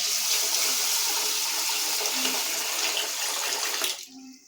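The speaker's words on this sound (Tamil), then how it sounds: "இப்போ இது முழுகிற அளவுக்கு தண்ணி ஊற்றிக்கலாம்" Water pours steadily from a tap over washed rice in a cooking pot to soak it for ghee rice, a continuous close rushing splash that cuts off near the end.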